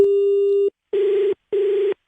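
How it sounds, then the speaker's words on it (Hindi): Phone call disconnect tone: one long steady beep followed by two shorter, evenly spaced beeps, loud, clean and alone with no voices. "फोन कट जा रहा है, नेटवर्क क्या हो गया है?"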